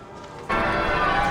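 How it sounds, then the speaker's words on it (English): Chester Cathedral's church bells break in loudly after a quiet moment of street ambience, then ring on as a dense, sustained peal close by. "this is the Chester Cathedral, and you can hear the bells are really loud"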